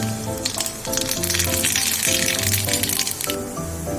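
Black mustard seeds crackling in hot refined oil, a busy close sizzle with sharp popping crackles throughout, joined by a faint background melody.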